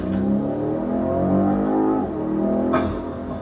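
A BMW Alpina B5 revs its engine while driving, a loud, close, continuous rising growl with a gear-change dip and renewed surge near the end, with no talking.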